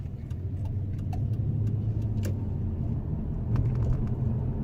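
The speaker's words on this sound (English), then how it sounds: "Yeah, the car has been driving perfectly fine." A Nissan Cedric 3.0 V6 Turbo heard from inside while driving, a steady low engine and road rumble with faint ticks and clicks above it, continuous and moderately loud.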